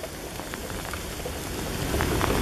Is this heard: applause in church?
no